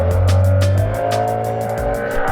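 A Nissan 9.8 outboard motor drives a small boat carrying four people, with a loud, steady, close engine drone and whining tone under rhythmic slapping of the hull against the water, and no talking.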